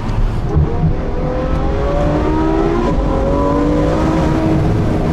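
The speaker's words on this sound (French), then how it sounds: "Ça fait même plus de bruit qu'une F1 moderne." A Ferrari F12 Berlinetta with its 740-horsepower engine pulls hard, its loud, steady roar rising in pitch through the gears, heard from inside the car with no voices.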